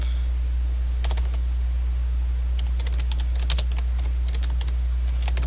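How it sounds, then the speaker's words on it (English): Typing on a computer keyboard, a series of light, irregular key clicks in small bursts, fairly close and moderately loud over a steady low electrical hum, with no speech. "you will be hearing me ticking on my keys"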